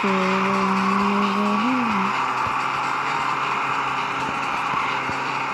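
Car driving and skidding in a video game, a loud tire squeal sweeping at the start and then giving way to steady engine drone with scattered scrapes.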